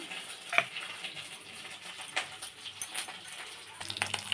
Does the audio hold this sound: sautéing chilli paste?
yes